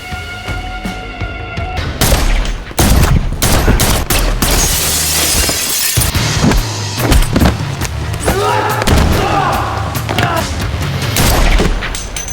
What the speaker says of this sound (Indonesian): Pertempuran pun segera terjadi dari mulai baku tembak hingga baku hantam.